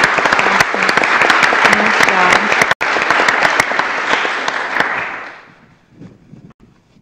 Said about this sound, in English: Could you guys give them one more round of applause?